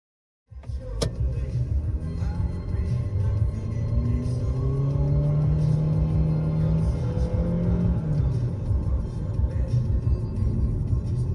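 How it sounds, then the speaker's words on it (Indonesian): Mitsubishi XForce crossover with a 1500 cc 4A91 engine driving, a steady low engine hum and road rumble that rises gently as it pulls away, heard from inside the cabin with no talk. "Mesin mobil ini 4A91 berkapasitas 1500 cc yang identik dengan Expander."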